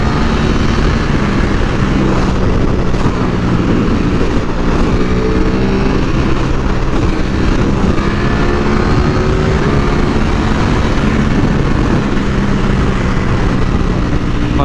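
A loud, close Ducati superbike engine running hard and continuously, with rising and falling pitch as it shifts up and down through the gears, a dense roar throughout.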